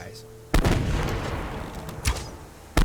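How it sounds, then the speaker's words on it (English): Grenade-tipped arrow explosions in the survival game Subsistence, in a cave: two loud booming blasts with long rumbling decay, then a third burst starting at the end. "I just love the sound of grenade tipped arrows."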